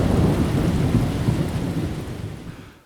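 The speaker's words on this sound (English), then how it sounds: "the skies darkened and we had the first heavy rain for several weeks" Thunder rolls during a heavy summer thunderstorm in the New Forest, a deep rumbling burst that slowly fades, with dense rain hiss continuing underneath.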